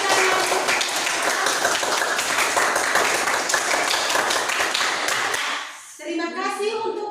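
Loud, dense applause from a school classroom audience after a group presentation, steady clapping for about five seconds before it fades out, followed by a young voice speaking.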